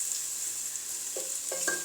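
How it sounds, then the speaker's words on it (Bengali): Chopped squash is added to frying onions in a pan, giving a steady quiet sizzle with a few soft scraping stirs near the end. "স্কোয়াশ যে কুচনো ছিল সেগুলো আমি দিয়ে দিলাম"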